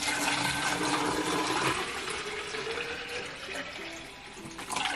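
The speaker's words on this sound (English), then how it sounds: "So let's fill this up with water." Water poured from a tap into a toy doll's reveal tube, a rushing, splashing stream that spills around, continuous and fairly close, easing slightly before a final gush.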